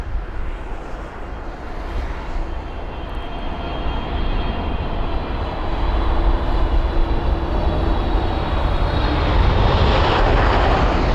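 A LATAM Boeing 777 at London Heathrow makes a loud, sustained jet engine roar that swells and grows stronger midway, heard close with no voices.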